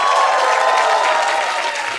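A studio audience on a television game show claps loudly and steadily, a dense, close wash of applause that holds evenly from start to finish.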